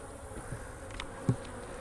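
A faint, steady buzz of honeybees hums in the background, the bees droning softly at a hive, with a brief thump partway through.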